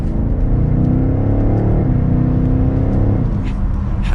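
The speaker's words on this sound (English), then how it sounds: "we'll give it another slight acceleration here from third gear" A 2022 BMW X6 M50i SUV in Sport Plus and manual mode pulls from third gear, its engine droning steadily and loud with a rising rumble inside the cabin, no talking over it.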